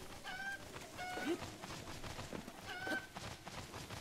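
Chickens in The Legend of Zelda: Breath of the Wild give a few short clucks and squawks over quiet game ambience, with a faint background hum.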